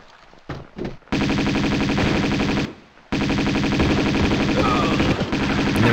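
Uzi submachine gun fire in the Tomb Raider II video game: loud sustained automatic bursts, a short stutter of shots followed by two long continuous rattling strings separated by a brief pause.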